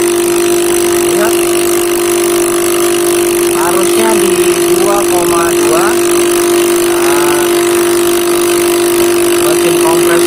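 Repaired refrigerator compressor running after a crankshaft fault, a steady loud electric hum with a constant tonal drone throughout, while someone talks over it close by.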